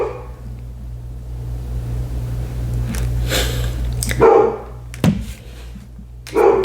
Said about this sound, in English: The dog is barking now.